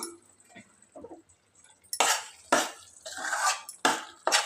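Spoon stirring mango thokku in a metal kadai after the stove is off, first soft scraping and then a run of loud, close scrapes and clinks against the pan.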